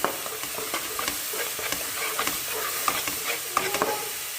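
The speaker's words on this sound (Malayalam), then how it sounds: "അതിലേക്ക് നമുക്ക് തക്കാളി പച്ചമുളകും ഇഞ്ചിയും കൂടി ഇട്ടിട്ട് ഒന്നുകൂടി ഒന്ന് വഴറ്റി കൊടുക്കാം" Onions and garlic sizzle steadily in a pan as tomato, green chilli and ginger are sautéed in for a stingray curry, a continuous close frying hiss broken by light scraping stirs of a spoon.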